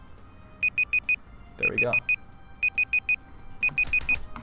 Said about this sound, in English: Okay, please stop beeping.